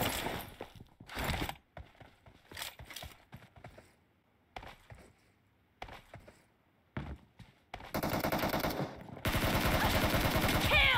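Repeated bursts of game gunfire in PUBG Mobile sound in short irregular volleys, building to sustained loud automatic fire near the end.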